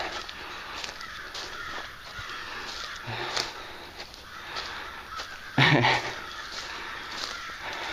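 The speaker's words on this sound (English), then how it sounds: "Listen to all those crows." Many crows caw repeatedly from various distances in the woods, harsh calls overlapping in an irregular chorus, with one louder burst nearby.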